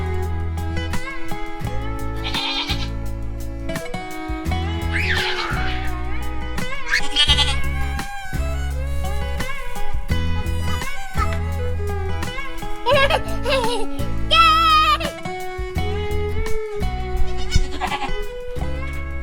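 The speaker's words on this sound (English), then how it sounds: "I love baby goats." Young goats bleat repeatedly in high, wavering cries over a steady low hum, several calls overlapping at close range.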